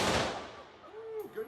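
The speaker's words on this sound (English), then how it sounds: "Put your finger out and pull the trigger." A single AK-47 rifle shot cracks loudly at the start and fades into a short decaying echo, followed by a brief faint voice.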